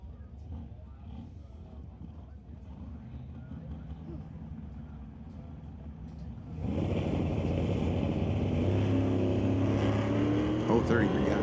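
A Ford and a Chevrolet hot rod launch side by side at a drag race, quiet idling giving way to a sudden loud roar of engines accelerating down the strip, with an announcer's voice over the start.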